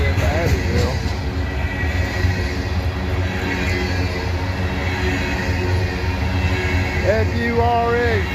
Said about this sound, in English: that means they'll be stopping this train on the main line